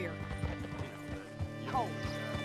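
A horse in the video game Red Dead Redemption 2 trotting with rhythmic hoof clip-clops and a brief snort or whinny, mixed with game sounds and a voice speaking over it.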